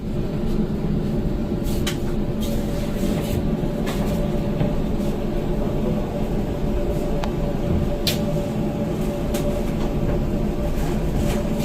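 A Kamakhya–Howrah Vande Bharat sleeper train at Malda Town station gives off a constant dense rumble and rolling noise, close and loud throughout, with occasional sharp clicks and clanks cutting through and no talk.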